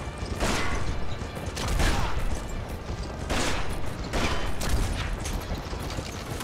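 Rapid bursts of gunfire in Red Dead Revolver, dense and continuous, with mechanical clatter and a few louder volleys throughout.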